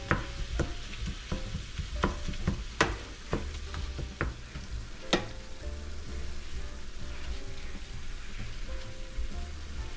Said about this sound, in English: As you can see, the browning process is slow.